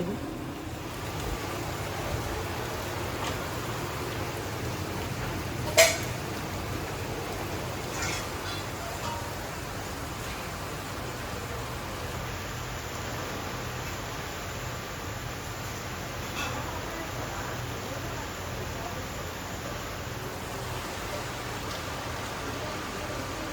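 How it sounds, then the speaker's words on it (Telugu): Continuous rain falls steadily for the whole stretch as an even, unbroken wash of noise, with one brief sharp knock early on and no voices. "వర్షం అయితే నిన్నటి నుంచి ఆగట్లేదండి అసలు పడతానే ఉంది గ్యాప్ కూడా లేదు"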